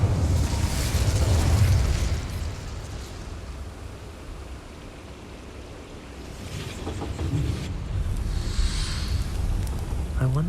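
A fire spell cast in Hogwarts Legacy gives a loud whooshing, roaring burst that swells and fades, then flares again with rumbling, crackling flame noise near the end.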